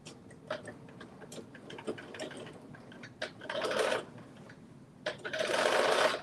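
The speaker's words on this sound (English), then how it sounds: "And now I am taking it out and just restitching that piece." A sewing machine restitches fabric in two short runs of rapid mechanical stitching, with scattered quiet ticks and handling clicks in between.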